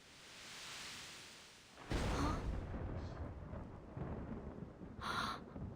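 A thunderstorm in the video game Reverse: 1999: a soft rumble swells, then a loud crack of thunder breaks into steady rushing rain, with a second sharp burst of thunder near the end.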